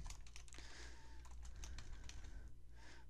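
Quick bursts of keystrokes on a computer keyboard, close and clear, tapping in irregular clusters over a low steady background hum.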